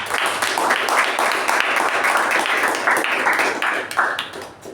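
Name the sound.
audience applause for the evaluators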